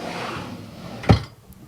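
A wooden makeup drawer from a set of drawers bumps shut once with a single short, solid knock, fairly close, after a stretch of soft room noise.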